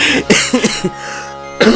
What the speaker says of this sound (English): Oh man, that cough.